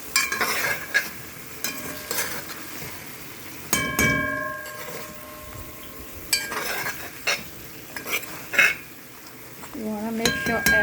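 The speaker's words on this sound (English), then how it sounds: "When you hear that sizzling song, you know well the water is all burnt off." Turkey curry sizzles in a hot pan with a steady crackling hiss as the water cooks off, broken by clinks and scrapes of a utensil stirring against the pan.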